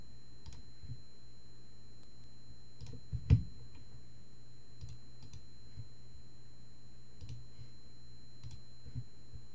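A computer mouse clicks repeatedly in Microsoft Word, soft isolated ticks spaced a second or two apart over a quiet room hum, with one slightly louder thump partway through.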